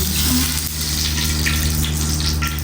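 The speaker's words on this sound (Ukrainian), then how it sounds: "Наливаємо олії." Cooking oil pours into a hot, smoking wok for Chinese stir-frying, a steady close hiss and splash with a constant low hum beneath.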